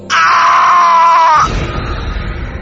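A woman's scream heard over a phone line in a horror story, one loud, sustained high shriek of over a second that cuts off abruptly into dull, muffled line noise.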